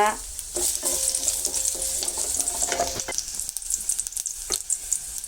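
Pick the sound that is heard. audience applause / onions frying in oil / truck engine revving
onions frying in oil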